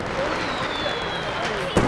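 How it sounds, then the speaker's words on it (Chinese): A rising whistle streaks overhead, then a sharp firework bang pops near the end of a temple fireworks display, with crowd noise and chatter running throughout. "青山寺燃放烟花，请各位欣赏啊！"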